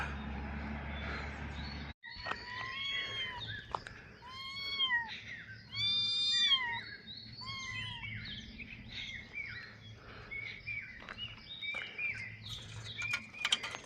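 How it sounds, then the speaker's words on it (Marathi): Kittens mewing over and over, a flurry of thin, high-pitched squeaky meows overlapping close by, with a low hum underneath. "मस्तपैकी मांजराची पिल्लं"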